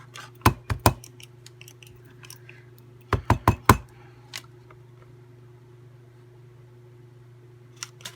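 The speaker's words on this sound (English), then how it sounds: "So where I punched that hole, I'll just punch a bigger hole there." A hole punch bites through paper in a handmade pocket notebook, with two quick rapid bursts of sharp close clicks and crunches, then a few faint taps over a quiet steady hum.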